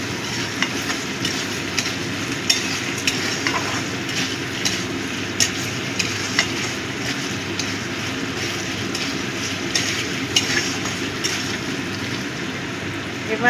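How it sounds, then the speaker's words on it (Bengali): Ginger-garlic paste fries in a pan while being stirred for chana masala, giving a steady, close hiss of sizzling oil. Soft scrapes and clicks from the utensil are scattered through it, and no one speaks. "আদা রসুন বাটাও দিয়ে দিলাম। ভালো করে মিশিয়ে দিচ্ছি।"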